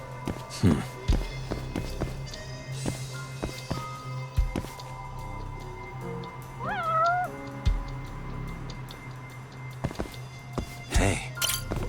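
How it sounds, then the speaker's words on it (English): A cat meows in the Judgement video game, one clear rising-falling meow mid-clip amid footsteps, thuds and ambient game sounds, with a person talking at times. "Oh, look, cat."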